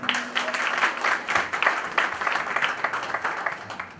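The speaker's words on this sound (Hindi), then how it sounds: "आप सबके जोरदार तालियां चाहूं।" Steady applause from an awards ceremony audience, a dense wash of many hands clapping that holds fairly constant for the whole stretch.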